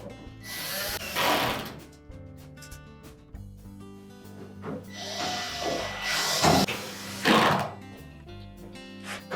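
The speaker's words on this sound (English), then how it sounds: "And then attach the screws." A power screwdriver drives screws into an LG dryer's front panel in two or three short whirring bursts with quiet gaps between them, heard up close.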